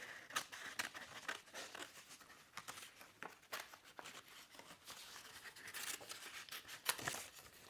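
Paper background of a pop-up jack-in-the-box card being cut away, soft repeated snipping and crinkling strokes in an irregular rhythm, close and quiet with no talking.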